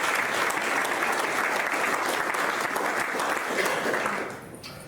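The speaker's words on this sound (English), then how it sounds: "another big round of applause for all of our speakers today" Audience applause for the speakers at a multispecies pastures farming conference, a dense steady clapping from a full room that holds strong for several seconds, then fades out near the end.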